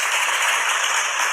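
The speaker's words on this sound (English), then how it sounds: "the round of applause goes to our contestants" Dense, steady applause for the contestants of a word and puzzle game night, a brief burst of many hands clapping close by with no one speaking.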